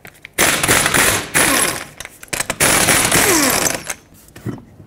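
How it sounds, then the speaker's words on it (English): Removing the wheel lug nuts from a 2003-2008 Toyota Corolla with a 21 mm socket: several loud, close rattling bursts from a powered wrench, separated by short pauses. "21 millimeter socket, remove all five of your lug nuts, and then pull the wheel off"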